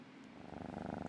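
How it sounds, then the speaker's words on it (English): A cat purrs steadily in a continuous low rumble, close and fairly loud, growing slightly stronger partway through, with no talking over it. "Get those purrs in. Can't skip the purr."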